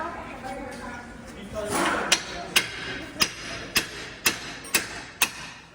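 Hammer striking a car drive shaft near its nut, about eight sharp metallic blows at a steady rhythm following shuffling handling noise, with someone talking quietly in the background.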